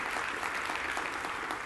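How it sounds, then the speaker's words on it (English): An audience at an education talk applauds, an even, sustained clatter of many hands heard from a moderate distance. "Let's give her a round of applause."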